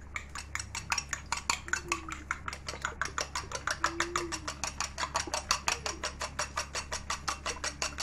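Metal spoon beating an egg mixture in a bowl for an Egyptian omelette, a steady fast series of sharp clinks against the bowl's side, close and loud, continuing without pause.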